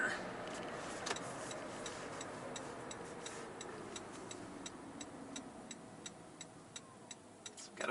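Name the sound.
turn signal ticking in a 2022 Toyota Prius Prime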